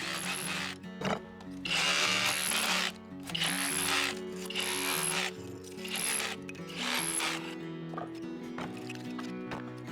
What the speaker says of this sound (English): I'm going to use my SDS drill